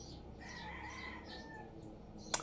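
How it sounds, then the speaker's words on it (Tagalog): A rooster crows in the distance under faint background noise, with a sharp brief knock near the end. "ang daming huni ng ibon guys sa loob ng sa bubong ng bahay"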